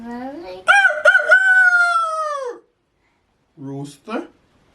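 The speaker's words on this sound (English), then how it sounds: "This is the rooster." A rooster crows with one long, loud cock-a-doodle-doo, followed after a pause by a couple of brief clucks; it may be a recorded sound from a toy or device, with no talk over it.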